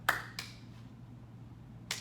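Sharp hand claps during an arm-raising exercise, three quick crisp claps close by, two together at the start and one after a pause, with quiet room tone between.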